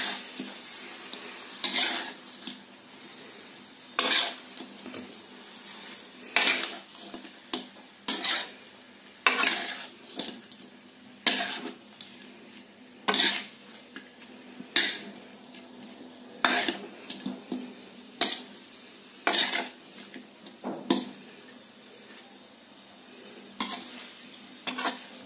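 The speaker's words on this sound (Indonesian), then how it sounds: "Sambil kita aduk." Fresh basil is stirred into a pot of sour pindang fish stew, a spoon scraping and clinking against the pot in repeated sharp strokes over a faint simmering hiss, close and without talk.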